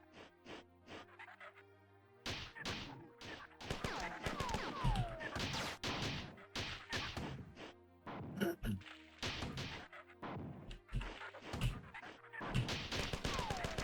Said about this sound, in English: This is definitely a job for the assault rifle.